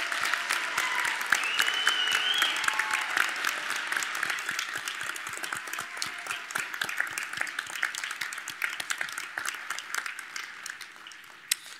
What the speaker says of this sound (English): Let's give them one heck of a round of applause.